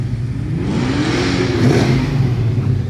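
Car engine revving at a private car show in Abbotsford, British Columbia, a steady loud rumble with rising and falling rev swells, strongest midway, heard up close with no talk over it.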